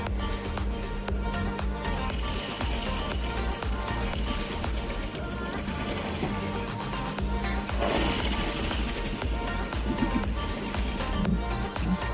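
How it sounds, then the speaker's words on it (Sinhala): Sewing machine stitching the darts of a blouse, a fast continuous mechanical chatter running steadily throughout at close range. "මෙන්න මේ ලකුණු කරපු තැන ඉඳලා පහළට මහගෙන යනවා"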